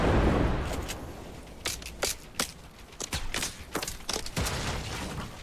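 Bursts of in-game gunfire from several players in a shooter, sharp irregular shots and short volleys cracking over a noisy background, loud and close, with no talk.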